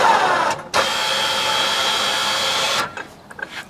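A rear-mounted 4,000-pound electric UTV winch on a 500 hp Hemi Jeep JK runs in a steady loud whine for about two seconds, starting and stopping abruptly, alone without talk.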